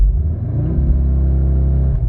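An Audi SQ2 Quattro engine held at high revs with one foot on the brake and one on the throttle for launch control: a loud, steady droning rumble with rising harmonic tones that hold for about two seconds, close up and with no talking.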